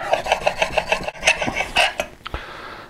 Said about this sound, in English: I'm going to put a slight camber on this blade by putting more finger pressure and more strokes at the corners